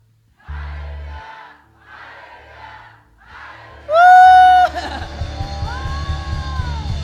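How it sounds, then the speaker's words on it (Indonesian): Church congregation at a Sunday worship service shouting in unison, several short crowd bursts followed by a loud collective yell that trails into sustained cheering and noise, heard live without microphones. "Saudara sorak haleluya 3 kali."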